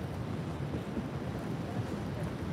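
Steady rushing wind buffeting the microphone, a low continuous roar with no pauses or voices.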